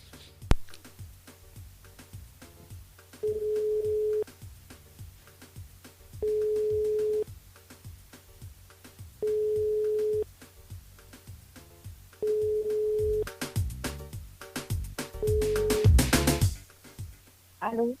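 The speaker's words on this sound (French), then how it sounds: "On appelle Marinette du côté du standard." Repeated telephone ringback tones on a line while a radio show host calls a listener through the switchboard, steady beeps in regular bursts over quiet background, ending with a louder burst of noise as the call connects.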